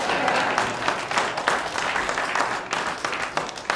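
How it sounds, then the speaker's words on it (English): An audience at a university football press event applauds, a full, steady crowd clapping with slight swells, fairly close and without talk over it. "please clap"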